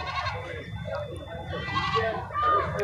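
Black Bengal goats bleat a few times nearby at a goat market, their calls mixed in with people talking over one another.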